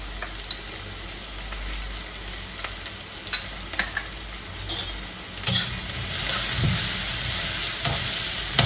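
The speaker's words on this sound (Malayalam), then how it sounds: "ഇത് 3 കൂടെ നന്നായിട്ട് ഫ്രൈ ചെയ്യണം." Dried red chillies, garlic and onion fry in a pan with a steady soft sizzle and occasional stirring scrapes, the hiss swelling louder toward the end, with no voices.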